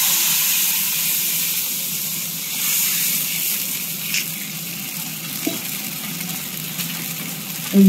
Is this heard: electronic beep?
no